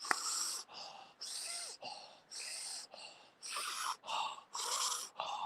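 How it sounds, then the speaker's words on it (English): Deep, heavy breathing during a breathwork exercise, loud rhythmic inhales and exhales repeating about every half second, close and alone without talk. "Let's breathe a bit more."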